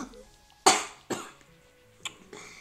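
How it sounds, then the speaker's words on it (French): A person coughs in a few separate harsh bursts, one loud and close and the rest weaker, with faint room noise in the pauses. "Oh, t'arrêtes de tousser là."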